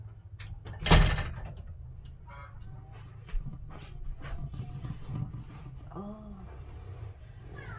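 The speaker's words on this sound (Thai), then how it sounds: "ต้องดึงปิดประตูเพราะว่ามันแสง" A door in a home is pulled shut with one loud, close knock near the start, followed by softer household clatter and faint voices in the background.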